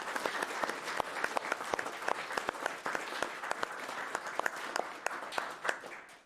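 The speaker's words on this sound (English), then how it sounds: "So big round of applause for all the prize donors." A crowd applauding prize donors at a charity speedrun event finale, steady dense clapping from many hands filling the room, fairly loud and even throughout.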